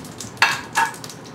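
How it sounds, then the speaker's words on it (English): Two quick sizzles burst up close as scallops hit a hot pan, each hiss flaring sharply and then fading. "when you put your scallop in, it should sizzle. That's what you hear"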